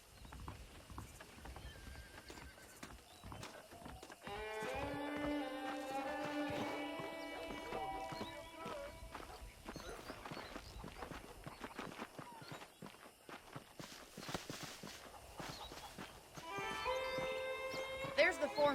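Horses in the Red Dead Redemption game on Xbox 360, with hooves clip-clopping and horses whinnying several times. Clattering and other game sounds play throughout, and talking continues underneath.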